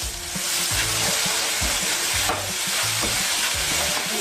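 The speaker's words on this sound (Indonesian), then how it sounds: "Sekarang kita mau tumis bumbu untuk ikan kuahnya" Spice paste sautéing in oil for a fish soup: a steady, close broadband sizzle fills the clip, with rhythmic low scraping and stirring strokes repeating throughout, no voices.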